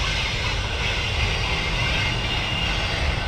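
A train passing close by, a loud continuous rumbling roar with steady hiss and clatter filling the whole stretch without letup.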